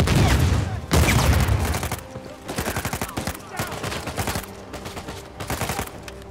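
Gunfire in the video game Uncharted 4: heavy bursts of automatic fire and scattered shots rattle loudly, opening with a dense barrage and continuing in rapid volleys.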